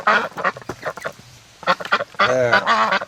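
Muscovy ducks being herded out of their pen give off a run of loud, close quacks and honking calls in irregular bursts, with a sustained raspy stretch near the end and no talking.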